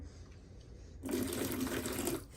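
Hot water splashes into a plastic sitz bath on a toilet seat, where it is meant to dissolve Epsom salt. A steady gush of pouring starts suddenly after a quiet second and runs for just over a second before tapering off.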